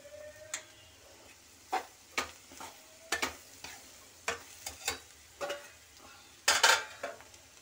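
Spices frying in a pan for bitter gourd and besan sabzi are stirred with a utensil, giving sharp intermittent scrapes and clinks under a soft sizzle, close and fairly quiet, with a denser burst near the end.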